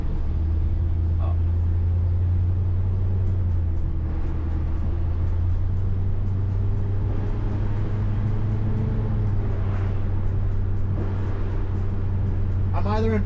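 A pickup truck bought cheaply secondhand drives along with a steady low engine drone that dips and rises as gears change smoothly, heard from inside the cab with no speech.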